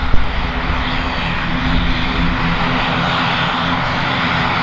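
An airliner at Kagoshima Airport roars with a loud, steady broadband engine rumble that holds constant throughout, with no talk over it.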